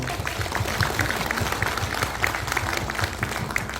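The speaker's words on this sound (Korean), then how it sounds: "박수 한번 주세요" Audience applause at a Korean gathering with lawmakers and panelists, a dense steady patter of many hands clapping at moderate level throughout, with no pauses.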